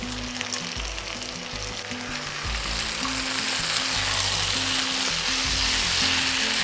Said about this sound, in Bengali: পুরো জিনিসটাকে এইভাবে মিশিয়ে নিলাম।